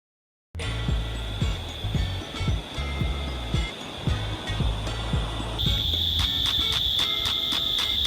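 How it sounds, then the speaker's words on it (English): Rushing water and a steady high insect drone by a river, with rhythmic low thuds of moving water under a constant shrill buzz that grows more pulsing toward the end. "It's a bit noisy between the bugs and the water."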